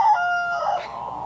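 A chicken rooster crows nearby, a single clear call that starts strong, wavers, then trails off softer, with no speech over it.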